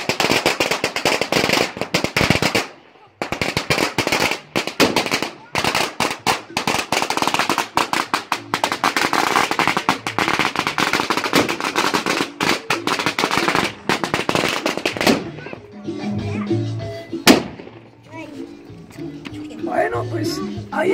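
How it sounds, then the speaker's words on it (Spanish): Firecrackers (cohetes) burst in rapid, loud crackling volleys that run almost continuously. There is a brief gap early on, and the bursts thin out toward the end into scattered pops and background voices. "esos son cohetes"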